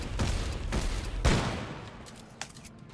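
A Magnum fires in Dead Space 3 with about four loud, booming shots spaced slowly apart, each ringing out before the next, and the last one fainter.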